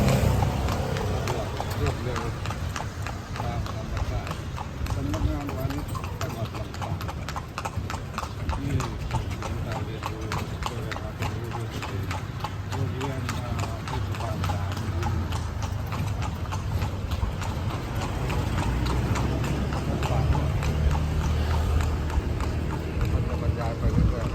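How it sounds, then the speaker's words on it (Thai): Hooves of a horse-drawn tourist carriage clip-clop steadily along a town street in Lampang, Thailand, with an even trotting rhythm running throughout under traffic and street noise, and people talking nearby. "จะมีรถม้า นะครับ ไว้ คอยบริการนักท่องเที่ยวนะ"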